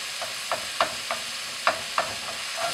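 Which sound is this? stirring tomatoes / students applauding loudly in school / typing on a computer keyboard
stirring tomatoes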